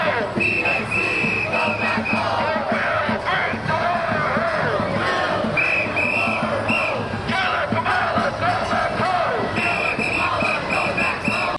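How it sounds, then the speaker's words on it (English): A crowd of protesters at a rally in Chicago chants loudly and continuously in rhythmic unison, with shouts and yells rising over the steady roar. "Protesters are chanting "Genocide Joe," at Joe Biden"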